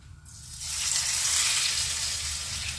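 Steady sizzling of apple strudel dough frying in a hot pan, a continuous crackling hiss that swells in after a brief quiet start and holds throughout.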